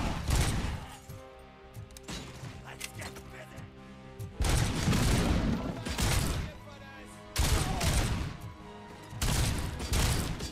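Gunfire and crashing impacts in RoboCop: Rogue City, with shots tearing through a wall. Dense bursts of loud reports and smashing debris, mixed with game noise and some talk.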